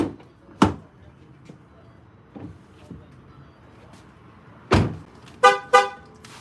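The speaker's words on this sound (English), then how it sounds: "When they be honking like that" A few short car horn toots ring out, the last two quick and close together, after some scattered thumps and quiet street noise.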